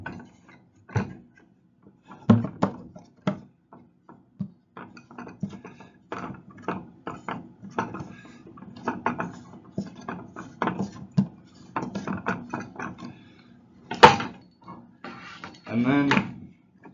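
A plastic fitting is screwed into a hole cut in a Chapin bucket, producing close, irregular creaks, scrapes and ratcheting clicks with short pauses between twists.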